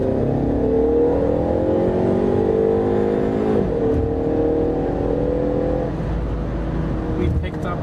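A Ford Mustang EcoBoost at full throttle in sport mode out of a corner, its engine note climbing steadily in pitch through the gears with a brief dip at a shift, loud and close from the cabin.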